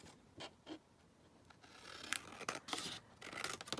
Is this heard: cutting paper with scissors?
yes